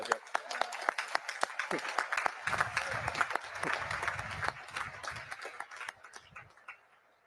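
Audience at a naval academy class ceremony breaks into applause after spoken address, sparse individual claps building into a fuller burst, then tapering off near the end.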